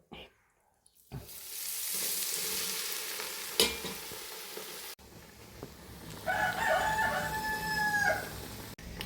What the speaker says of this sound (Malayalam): നമുക്ക് പതുക്കെ വറക്കാനായിട്ട് ആരംഭിക്കാം കുറച്ച് ഇട്ട് കൊടുത്ത് നല്ല രീതിക്ക് ഫ്രൈ ആക്കി എടുക്കാം